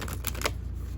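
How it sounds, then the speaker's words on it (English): A large, oversized deck of playing cards is split in half and riffle shuffled, giving a quick burst of close, papery flutter over the first half second before it fades under a steady low hum. "this deck is so big I have to split it in half to shuffle"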